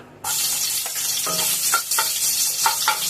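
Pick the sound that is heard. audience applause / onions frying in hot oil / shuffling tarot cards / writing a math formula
onions frying in hot oil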